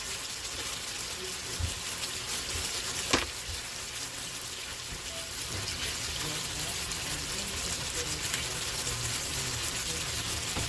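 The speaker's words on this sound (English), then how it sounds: "Like I said, I wash my onion." Tap water runs steadily while an onion is washed under it in a home kitchen, a continuous hiss and splash with a single sharper knock partway through.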